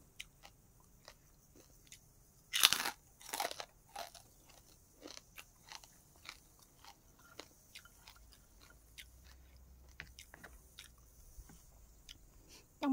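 Someone eats rice with chili paste, boiled egg, pork cracklings and fresh garden vegetables, producing close, crisp crunching bites and chewing, with two louder crunches early and quieter chewing throughout.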